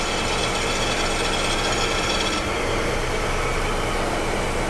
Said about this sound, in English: And you heard the pump get quieter.